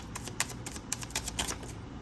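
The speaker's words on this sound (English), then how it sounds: "This is why I shuffle on camera. Those cards are flipping over." Tarot cards shuffled by hand, a quick run of soft papery riffles and flicks in an irregular rhythm, close and fairly quiet, with no talking.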